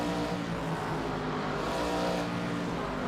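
Pro Cup Series stock race cars at Southern National run at high RPM bumper to bumper, a loud continuous engine roar filling the whole stretch with no pause.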